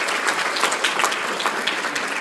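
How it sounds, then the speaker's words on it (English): An academic advising conference audience gives a round of applause, a dense, continuous roar of many hands clapping together at steady loudness for a couple of seconds. "The organization, round of applause,"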